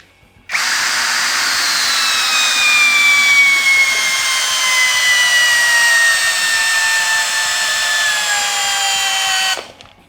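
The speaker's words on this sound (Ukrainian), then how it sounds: "Вкручувати цей глухар будемо у суху соснову колоду" A Procraft PA20Pro cordless drill whirs steadily for about nine seconds, its pitch slowly dropping as a lag screw is driven into a dry pine log, then it stops.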